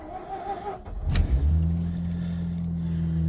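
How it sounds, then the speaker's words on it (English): A cold Series 2 Mazda RX-8 rotary engine cranks and fires up with a brief burst, then settles into a steady, loud high idle close by. "the RPM is going to be really high when you start it up and it's really cold"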